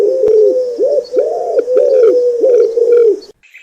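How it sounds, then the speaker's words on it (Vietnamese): An owl calls in a steady series of about seven low, rounded hoots, loud and close with no other sounds, ending abruptly. "Chim cú mèo."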